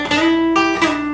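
An electric guitar plays a short blues lick, sliding into different scale positions with a few sustained, bright notes in quick succession, clear and alone.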